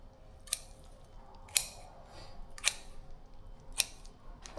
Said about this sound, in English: Now we're going to use the scissors, and we're just going to slowly